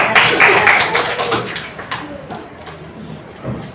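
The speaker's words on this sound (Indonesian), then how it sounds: "Boleh tepuk tangan." A fifth-grade classroom in North Kalimantan, Indonesia, breaks into a dense burst of children's clapping that fades out after about two seconds, leaving quieter room noise and voices.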